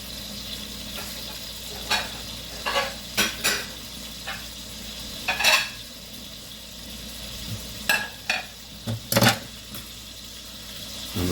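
Steak frying in a pan over a slightly raised flame, a soft steady sizzle broken by sharp clinks and scrapes of a utensil against the pan at irregular intervals, close by.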